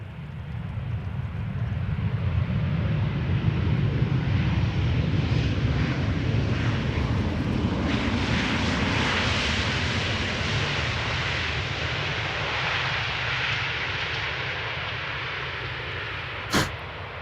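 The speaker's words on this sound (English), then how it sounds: "KLM flight 1364 touching down, coming back home from Warsaw" A KLM passenger jet touching down at Amsterdam Schiphol Airport on return from Warsaw, a sustained deep engine rumble and rushing roar that slowly eases, heard from a distance with no talking.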